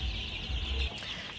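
Eight-day-old Sonali super hybrid chicks give a brief burst of faint, high, overlapping chirps, close by.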